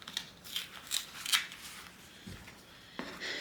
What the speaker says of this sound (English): now we're going to cut out the material